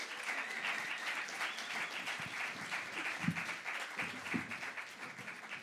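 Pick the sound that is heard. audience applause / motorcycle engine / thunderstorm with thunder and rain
audience applause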